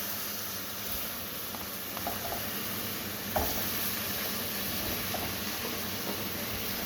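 Steamed mixed vegetables, potatoes included, being tossed with spices in a pan of clarified butter, giving a constant loud sizzle and hiss with a few faint scraping stirs and one brief knock.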